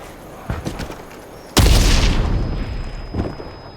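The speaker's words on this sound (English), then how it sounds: "Grenades are a powerful explosive item." A grenade detonates in the Vietnam-era shooter Hell Let Loose, a sudden loud boom with a rumbling tail, preceded by a few lighter scattered gunshot-like bangs and followed by a high ringing tone.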